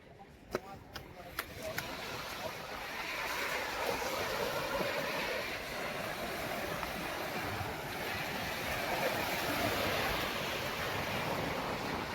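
Sea surf roaring onto the beach at Bakkhali–Frazerganj, a loud, steady wash of breaking waves that swells and holds without pause, with a few sharp clicks at the very start.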